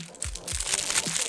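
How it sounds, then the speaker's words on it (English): A crunchy snack is chewed close to the microphone, with a few brittle crunches and crinkles packed into just over a second. "It's snack time, so if you hear me chewing"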